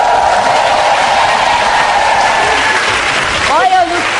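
A studio audience at the Programa Silvio Santos television show boos loudly in a dense, continuous crowd roar, and a voice speaks near the end.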